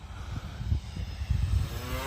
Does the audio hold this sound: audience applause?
no